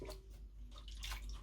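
A vinyl record being washed in water, soft sloshing and splashing with brief drips, close and faint, with no talk.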